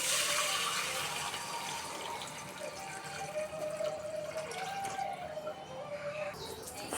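Water runs from a tap into a bucket, a steady rushing fill that softens and thins as the level rises, with a faint bird call somewhere in the background and no talk.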